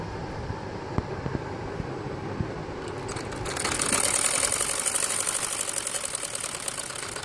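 A sewing machine stitches the flared ghera hem of a kameez. After a quieter stretch of faint handling noise, a fast, steady mechanical whir starts up about halfway through and runs continuously to the end.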